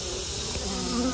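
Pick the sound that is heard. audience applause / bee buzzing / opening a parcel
bee buzzing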